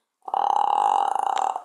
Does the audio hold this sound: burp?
yes